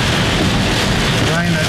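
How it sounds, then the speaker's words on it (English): Heavy microburst rain pounds down during a storm in the Southern Highlands and Illawarra, a dense, loud and unbroken roar of broadband noise mixed with wind buffeting the microphone, with faint speech-like sounds beneath. "Microburst rain."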